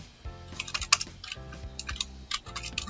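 Quick bursts of keystrokes on a computer keyboard as a name is typed, uneven clusters of close, crisp clicks with short pauses between them.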